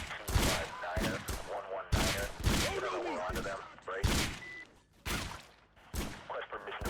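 Gunfire in the mobile shooter game Random Mafia Shooter: several loud bursts of shots at roughly one-second intervals, with a gap between volleys.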